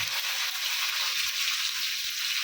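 Chopped onions frying in a pan for a Bengali duck curry, a steady, bright sizzle that holds evenly throughout with no talk over it.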